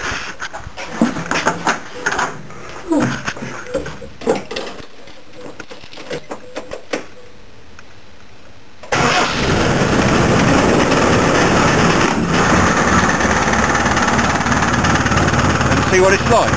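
A cold Land Rover 200 TDI diesel engine starting up and settling into a loud, lumpy idle after a stretch of quieter talking and handling sounds, running steadily and close until the end.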